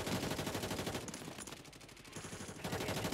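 Rapid automatic gunfire in the battle royale shooter Warzone (Modern Warfare III), with the RAM-7 rifle, dense bursts of shots rattling continuously over three seconds with a short lull in the middle.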